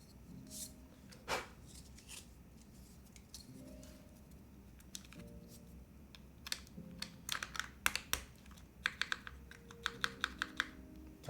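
Typing on a custom mechanical keyboard with an aluminum plate, a quiet patter of keystrokes that grows into rapid, crisp bursts of clacks toward the end, heard close with no talking.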